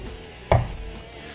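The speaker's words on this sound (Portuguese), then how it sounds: "Eu vou dar uns cortes na lateral, seguro a faca e corto" A knife cuts into the side membrane of ossobuco meat, giving a single short, close thud against the board with otherwise quiet surroundings.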